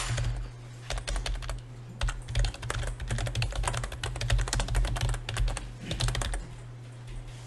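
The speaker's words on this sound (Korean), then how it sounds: "글자를 치면 됩니다." Rapid, close keystrokes on a computer keyboard while text is entered in AutoCAD, clattering in quick uneven bursts with brief pauses.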